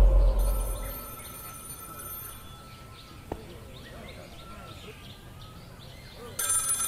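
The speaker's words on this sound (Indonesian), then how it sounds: "Ada telepon." Telephone ringing inside a Minecraft game world, a steady electronic ring tone under faint ambient birdsong and background hum, with a voice speaking briefly.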